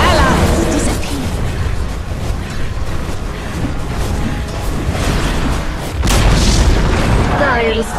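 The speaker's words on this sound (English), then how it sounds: "Dire's top tower has fallen." A Dota 2 tower collapses in a heavy, booming explosion with a loud rumbling sustain and a fresh, stronger blast near the end. Game noise and a voice run faintly underneath.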